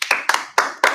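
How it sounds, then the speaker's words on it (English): A small audience at a business-ideas talk claps in four spaced bursts, close and moderately loud, with no voices over it. "let's give a big applause"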